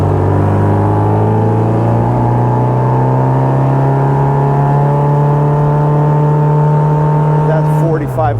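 A 1960 Bugeye Sprite sports car's small engine pulls hard in third gear around 4,500 rpm, a loud, steady exhaust drone with a sustained pitch from inside the car, dropping away near the end.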